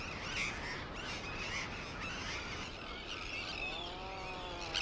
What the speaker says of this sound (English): Puffins are small birds